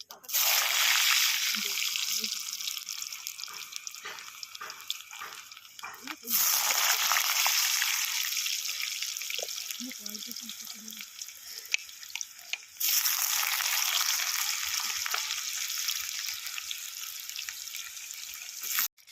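Loud hissing sizzle of potatoes frying in hot oil with cumin seeds, surging in bursts and settling, with faint clinks in between.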